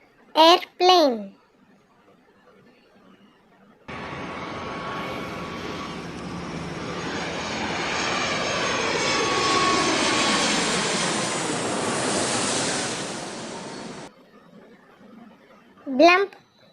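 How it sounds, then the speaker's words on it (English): An airplane passes overhead, its engine roar swelling to a peak and then sweeping away over about ten seconds, with a voice speaking briefly before and after. "Airplane,"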